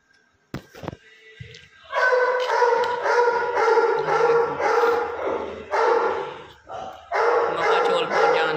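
A dog barks repeatedly in loud, close bursts on a home staircase, calling for rice to be served, with a few sharp sounds before the barking starts and barely any voice.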